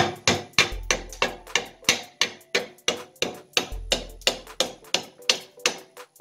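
Welding slag is knocked off by striking a welded piece down against a corner on a bridge build, producing a steady run of about fifteen sharp, close metallic knocks at a brisk, even rhythm.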